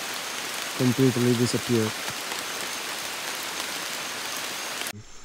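Steady rain pours down in the Amazon rainforest near a swollen river, a dense, even hiss close around. A voice speaks briefly early on, then the rain continues alone until it cuts off abruptly.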